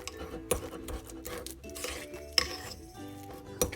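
Softened garlic butter being mixed in a bowl, with spoon clinks against the dish, scraping and stirring taps spread unevenly through the mix, fairly close with no talk.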